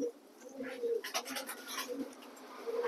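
Racing pigeons in a home loft coo in low, repeated murmurs, fairly close and steady, against a hiss of background noise with faint clatter.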